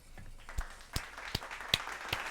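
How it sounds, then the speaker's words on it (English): Five weak, evenly spaced hand claps, faint and close, with roughly half a second between claps and a slightly hollow room sound. "those claps was like weak as hell"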